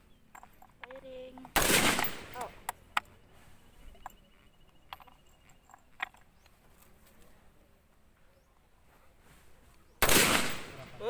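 Practice gunfire at a scout ranger firing range: two loud bursts of shots, one early and one near the end, with faint chatter and scattered clicks in between.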